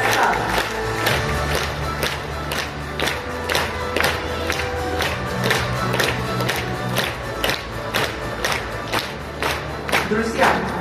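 A large conference audience applauds loudly, with steady rhythmic clapping and scattered cheers filling the hall throughout, over a low musical backing.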